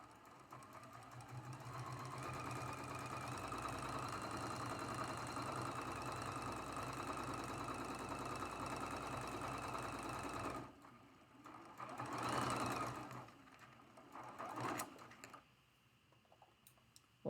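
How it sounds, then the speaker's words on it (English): Sewing machine stitching a traditional spool quilt block, guided along the presser foot: a steady, fast mechanical whir for about ten seconds, then stopping, followed by a few short bursts and quieter handling noises. "now we're going to line up this line with our presser foot and sew on both"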